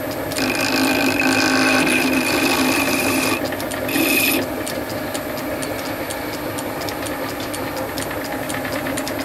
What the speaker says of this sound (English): And rub with the file on the corners.